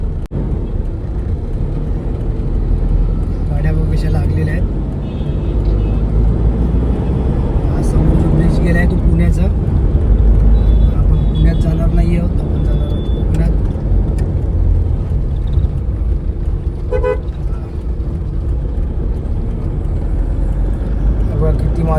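Continuous highway traffic heading from Mumbai to Konkan past the Kashedi tunnel rumbles past, vehicles whooshing by close and loud, with a voice talking over the steady roar.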